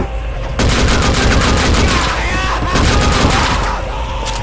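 Pistol fire in the shooter game Gore, on a mob territory level, as a loud, dense stream of rapid shots that hammers on for about four seconds, with a faint voice underneath.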